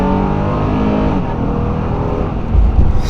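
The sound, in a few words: SUV accelerating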